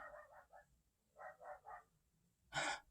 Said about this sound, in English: I don't know if you can hear the dogs barking.